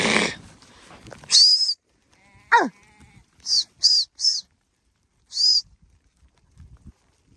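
Several short bleats from sheep and goats, one nearby low cry followed by a run of quick high calls, with pauses of quiet between them.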